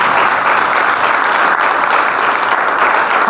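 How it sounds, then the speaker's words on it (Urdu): A church congregation at an Urdu-language Sunday service claps loudly and steadily, a dense, continuous wash of applause with no voices over it. "پہلے اس کے لیے زوردار تالیاں بجائیے۔"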